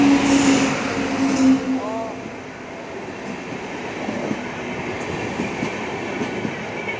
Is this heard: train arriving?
yes